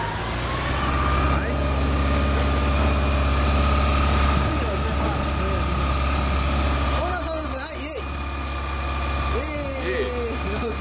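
A Honda CB400 Super Bol d'Or Hyper VTEC Revo motorcycle engine idles with a steady, low throbbing rumble close by, while faint voices come through underneath.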